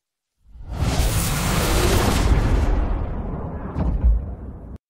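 A loud roaring whoosh swells up and rushes on for several seconds, then a sharp crack near the end before it cuts off.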